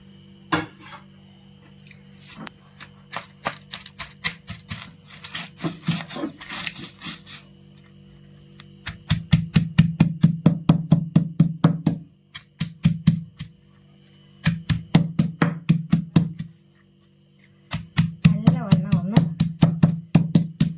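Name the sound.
crushing shallots and green chilies for a prawn chutney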